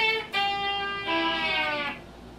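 Slide guitar notes played in short phrases, each held briefly and then cut off cleanly as the strings are muted with the right-hand thumb and pick, with no talking over them.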